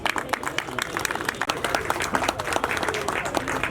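At a Nepali film launch ceremony, an audience applauds with steady, dense clapping throughout, with a voice speaking over it.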